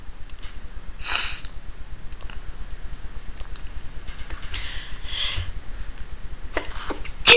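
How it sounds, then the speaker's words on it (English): A single sharp sneeze bursts out near the start against a quiet, faintly ticking background, followed by a few soft sniffs and small rustles. "Oh, excuse me, I had to sneeze."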